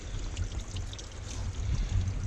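Fresh water from the hills flows over a beach toward the sea where it meets salt water, a soft, steady trickling and pouring heard close by at low volume, continuous and without voices.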